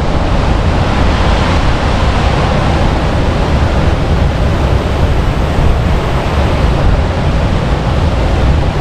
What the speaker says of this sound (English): Spillway here.